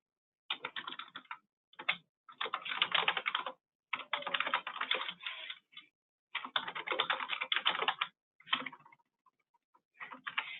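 Typing on a computer keyboard while entering company name, contact details and address into a settings form: close, quiet bursts of rapid key clicks separated by short pauses, with no talking.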